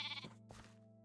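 Minecraft sheep bleating in a video game, two short nasal bleats in quick succession, clear and close against quiet background.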